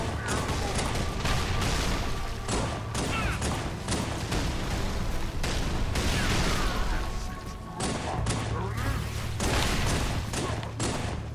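Rapid bursts of gunfire and explosions from the Halo video game crackle and boom in dense volleys throughout, loud and close, with brief lulls between barrages.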